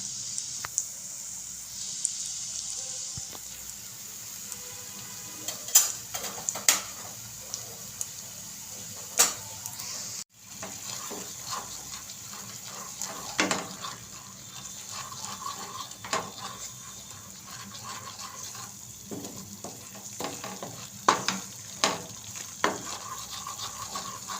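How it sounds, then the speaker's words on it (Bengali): Spice paste with salt, turmeric, cumin, coriander powder and garam masala cooks in oil over a very low flame, with a soft steady sizzle and intermittent scraping stirs and clinks of a spoon against the pan. "তেলের মধ্যে পেস্টগুলো দিয়ে আমি আঁচটা একদম লো ফ্লেমে করে দিয়েছি"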